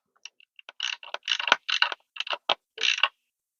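Grind adjustment collar on a DF64E coffee grinder being turned and locked while zeroing the burrs, a string of short, close mechanical clicks and ratcheting bursts in uneven rhythm.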